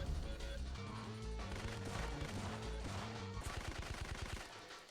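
Rapid gunfire crackles almost nonstop in the PlayStation shooter Syphon Filter 2 while enemies are shot down, set against thumping electronic music with a hard beat.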